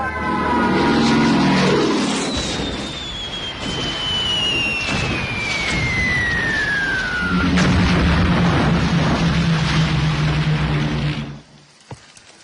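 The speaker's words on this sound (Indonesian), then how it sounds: "Kediri sudah dilululantakkan oleh pesawat-pesawat Belanda." Dutch warplanes attack Kediri in a war film, with a loud propeller drone, a long descending whistle, heavy explosive rumbles and crackling debris before the sound cuts off abruptly near the end.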